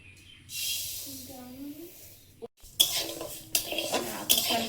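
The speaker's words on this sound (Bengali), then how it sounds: "মুগ ডালটা ভেজে নেব।" Mung dal dry-roasting in a pan over a strongly burning stove: a steady hiss, then closer scraping and clattering as it is stirred, with a voice speaking over it.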